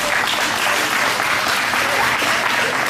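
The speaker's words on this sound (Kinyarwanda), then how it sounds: "Ngaho ni muyambe tugende mwumva amashyi menshi cyane." Guests at a graduation party clap loudly and continuously, a thick wash of many hands that fills the room without pause and with no speech on top.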